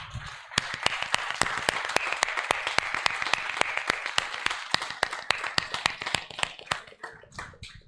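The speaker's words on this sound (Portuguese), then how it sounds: "Vamos aplaudir ao Senhor." A church congregation claps in unison, sharp rhythmic beats over a bed of scattered applause, steady and close, thinning out near the end.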